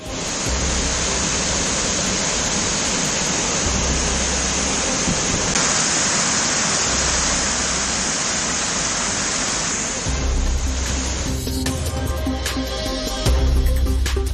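The Manimuthar waterfall in Nellai, swollen by flooding, roars as a steady, dense rush of falling water that fills the scene without pause.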